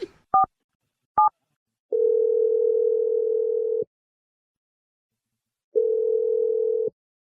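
Steady telephone dial tone while placing a call to a radio show guest, starting after a few short clicks and beeps, running about two seconds, pausing, then sounding again, clear and close with no talk.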